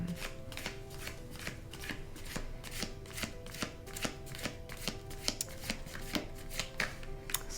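A deck of cards being shuffled again and again, a close run of crisp riffling bursts in a steady rhythm with no talking.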